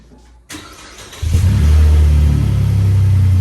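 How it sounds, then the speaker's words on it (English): A lifted truck's engine cold-starts, cranking briefly, then catches and roars into a loud, steady idle with a deep rumbling MagnaFlow exhaust. "we need to do a cold start because we need to bring the car up to temp"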